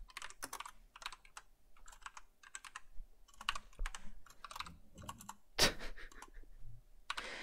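Quiet, close computer keyboard typing comes in short clustered bursts of clicks with brief pauses between them, plus one louder tap near the end.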